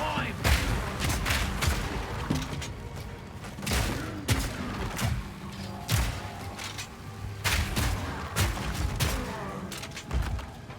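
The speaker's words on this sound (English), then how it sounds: "I just shot 3 times with my shotgun instead of twice" Shotgun blasts in the action RPG Path of Exile 2, loud booming shots with sharp thuds repeating through dense game effects and background music, several bursts in quick succession.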